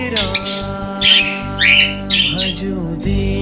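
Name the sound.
birds chirping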